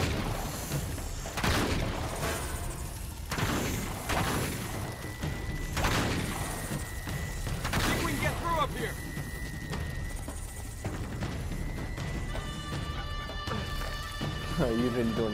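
Bursts of gunfire and heavy impacts crackle repeatedly through a firefight in the video game Uncharted 3: Drake's Deception, dense and continuous, with characters shouting over the shots and tonal beeps and music layered in.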